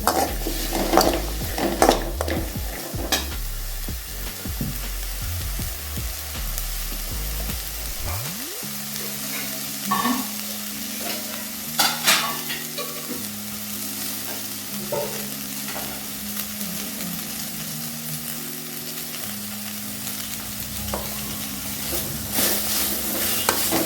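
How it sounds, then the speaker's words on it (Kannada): Grated coconut and onion frying in a pan for chicken sukka, a continuous crackling sizzle with a spatula scraping and clinking against the metal, while a tonal hum or music plays faintly underneath. "ಈಗ ಕೊಬ್ಬರಿ ಮತ್ತು ಈರುಳ್ಳಿನ ಹುರ್ಕೊತಾ ಇದ್ದೀನಿ"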